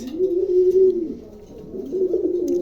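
A pair of stone-eyed exhibition homer pigeons cooing up close, a loud steady low coo that dips briefly and then resumes.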